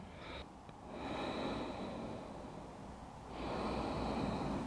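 Intense, forceful breathing during a yoga stretch, with two long, loud breaths drawn close to the microphone, separated by a brief quieter pause.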